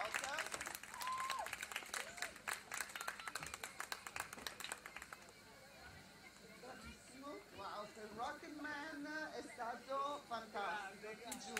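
Student audience at a music academy talent concert claps in a burst of applause for several seconds, then the clapping fades as someone talks over the lingering hall noise.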